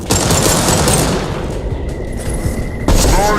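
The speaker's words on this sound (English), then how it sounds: "He's shooting." Rapid bursts of gunfire in the sci-fi shooter game Mass Effect 2, loud and dense automatic shots in close succession with booming impacts, pausing briefly before another burst.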